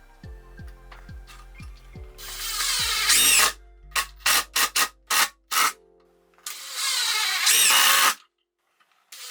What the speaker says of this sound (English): putting 4 screws in each piece